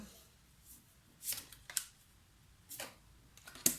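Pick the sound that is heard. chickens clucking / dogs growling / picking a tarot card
picking a tarot card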